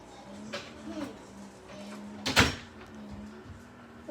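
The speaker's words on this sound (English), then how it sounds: "Close my door." A door is shut inside a home, giving one firm close thud amid a few quieter knocks and shuffles in a room with a faint hum.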